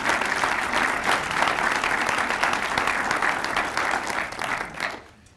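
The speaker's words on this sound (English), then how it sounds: "please, let us give a round of applause for all of the city staff throughout" An audience at a city State of the City address applauds the city staff in a dense, sustained wave of clapping that holds steady before tapering and fading away.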